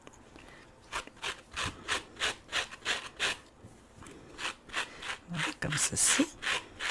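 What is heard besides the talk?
brushing crocheted yarn duck to make it fuzzy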